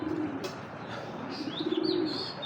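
Pigeons cooing in a loft, soft repeated low coos with a few higher chirps, fairly faint over a hushed background.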